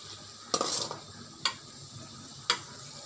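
Mutton pieces frying in a pan for mutton chutney, a low steady sizzle with three sharp stirring scrapes spaced about a second apart, close by with no talking.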